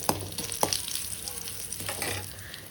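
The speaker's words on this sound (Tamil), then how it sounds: "இன்னும் கொஞ்சம் நல்லெண்ணெய் சேர்த்து இதில் கடுகு, கொஞ்சோண்டு வெந்தயம், ஒரு வத்தல், கொஞ்சம் கருகப்பிலை போட்டு தாளிக்கணும்." Mustard seeds, fenugreek, a dried chilli and curry leaves crackle and sizzle in hot sesame oil, with soft sputtering pops and a few sharp spits over a steady hiss, close and fairly quiet.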